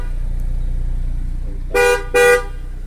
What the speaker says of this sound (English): When the car honks twice,